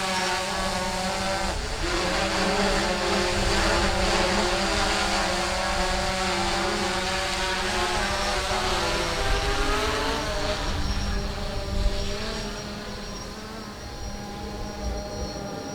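A foam FT Aviator RC airplane drones steadily overhead as it climbs, its electric motor whine holding a continuous buzzing tone with slight pitch shifts throughout.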